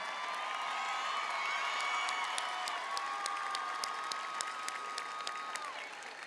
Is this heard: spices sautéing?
no